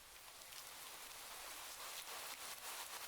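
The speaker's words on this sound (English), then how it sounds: "in the middle of your walk it starts to rain" Steady rain falls in the horror video game Do Not Take This Cat Home, a soft, even hiss of drops pattering on surfaces that continues throughout with no voices.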